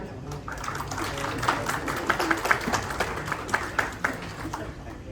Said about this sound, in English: But let's have a round of applause for Mr. Sardar Khan.